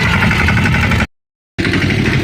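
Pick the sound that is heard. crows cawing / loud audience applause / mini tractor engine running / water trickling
mini tractor engine running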